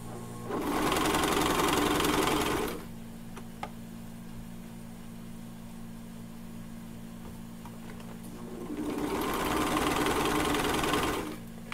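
A coverstitch sewing machine runs in two bursts while stitching a leotard, a steady fast mechanical whir at the start and again near the end, with a quieter lull of low hum between.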